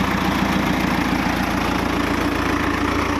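Ford 6600 tractor diesel engine running steadily, a loud close rumbling chug with constant knocking vibration and no change in pace.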